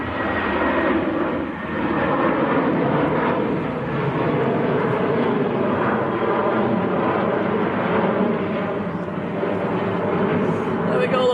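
Empty airliner taking off from Manchester Airport bound for Amsterdam, a sustained, loud, rumbling engine roar that stays steady throughout, with a voice talking faintly over it at times.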